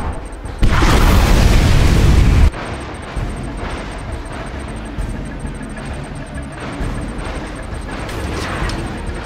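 A nuclear missile detonates in the strategy video game Command & Conquer 3: Kane's Wrath. The blast is loud and booming, with a roughly two-second roar that falls away into a long rumbling tail.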